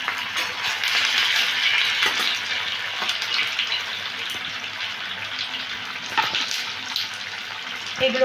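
Potato and semolina pakoras frying in hot oil, giving a steady, dense sizzle and crackle close by that carries on throughout, with occasional louder pops and spatters and no talking.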